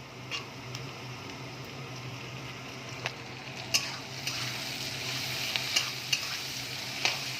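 Tomato frying in a pan with salt and turmeric gives a steady, moderate sizzle, with a few sharp taps and scrapes of a spoon against the pan.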